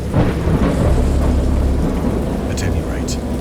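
Deep rolling thunder with steady rain in the Dagon interactive horror game, loud and close, rumbling through heavy rainfall with a voice speaking over it.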